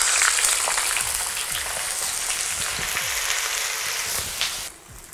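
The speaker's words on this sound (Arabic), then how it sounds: "عندنا هنا طبعا بمقلاة مثل هذه خلينا الزيت وراح نقلي الكبة" Mosul-style kibbeh frying in oil in a pan, a steady close sizzle and crackle with scattered pops, running evenly before cutting off abruptly near the end.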